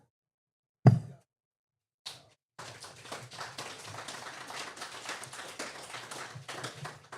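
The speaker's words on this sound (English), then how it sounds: "it's sad to get applause for that" A single sharp clap, a brief pause, then sustained crowd applause with steady clapping that continues to the end.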